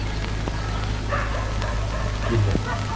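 A dog gives a few short yips and whimpers at close range over a low steady hum, with faint indoor background and no clear talk.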